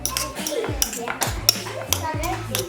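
A spoon scrapes and clinks in a bowl while potato filling for taquitos is mixed with salt and garlic powder, close and sharp, with irregular knocks roughly every half second over a low hum.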